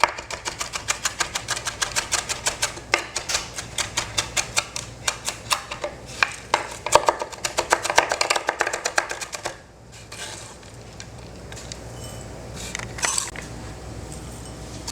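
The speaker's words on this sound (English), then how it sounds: "I am going to chop it up nice and fine, or slice it nice and fine" A knife chops garlic finely on a board in quick, rapid taps for about nine seconds, then slows to a few scattered cuts against a quiet kitchen background.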